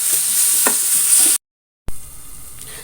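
Sliced tomato sautéing in a pan, a loud, close sizzle with a stir or two, then a brief silent gap before a quieter sizzle resumes.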